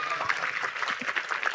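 University students applauding at a campus gathering at Unpad, a dense, steady clapping from a large crowd heard continuously throughout the short excerpt.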